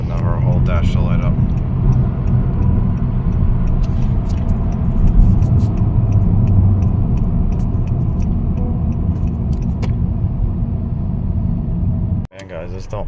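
A 2018 Honda Accord 1.5L turbo with a boost leak, running rich, rumbles steadily from inside the cabin and then abruptly cuts out as the engine stalls near the end.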